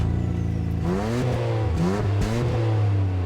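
Nissan Skyline GTR engine in the Racing Master racing game revving hard through several rising pitch sweeps, loud and close, with no talking over it.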